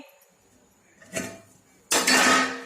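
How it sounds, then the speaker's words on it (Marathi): A metal plate lid lifted off a pot of cooking pithla clatters twice, a light clink followed by a louder, longer metallic scrape and rattle, close by. "आता आपण प्लेट काढून बघूया आपलं पिठलं झालं आहे का ते"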